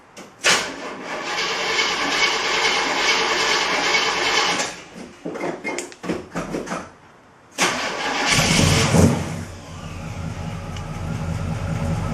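A 1974 Chevy Nova with a Pypes Race Pro exhaust and polished SS tips starts for the first time. It cranks loudly, stumbles through sputtering bursts and a short pause, then catches and settles into a deep, rumbling idle nearby.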